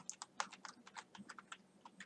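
Quick, light keystrokes on a computer keyboard while filling in a user form in a taxi booking system, about a dozen close, soft clicks in an uneven rhythm with no talking.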